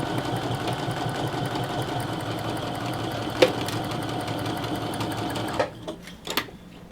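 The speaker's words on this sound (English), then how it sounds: "we're gonna sew until our needle's down in that seam allowance before we pull that pin out" Sewing machine stitching a seam on a unicorn panel quilt with a fast, steady mechanical chatter close by, then stopping near the end, leaving a few soft clicks and handling noises.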